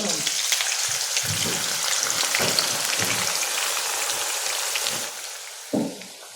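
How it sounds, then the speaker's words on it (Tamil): Steady, loud sizzling and crackling of bitter gourd frying in hot oil, continuous for several seconds, with a few clinks of a utensil. "நல்லா பொறிச்சு ப்ரௌனாக எடுத்துடணும்"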